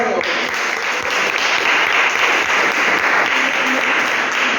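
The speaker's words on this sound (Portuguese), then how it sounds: "as palmas louvam ao Senhor" Sustained applause from a church congregation praising the Lord at a morning service, steady and fairly loud throughout, with some voices mixed into the clapping.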